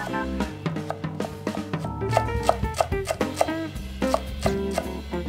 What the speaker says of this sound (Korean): 쪽파는 송송 썰어 2스푼을 준비하시고요